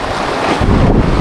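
Strong waves and gusting wind at sea under a strong northeast monsoon, a loud continuous roar with heavy wind buffeting on the microphone.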